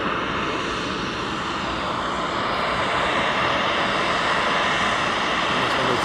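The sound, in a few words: DHL inbound cargo aircraft engine at East Midlands Airport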